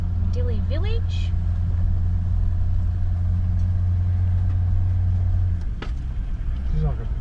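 Car driving slowly through Dilly Village campsite on Fraser Island, steady close engine drone with faint voices in the cabin and a few brief clunks near the end.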